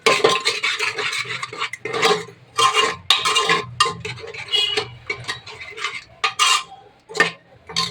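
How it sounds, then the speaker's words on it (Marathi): A spoon stirs masala together with chopped coriander and mint in a bowl, giving close, irregular scraping and clinking strokes in short bursts, loud and without speech. "इथे हा मसाला त्यानंतर कोथिंबीर आणि पुदिना मस्त असं मिक्स करून घेते"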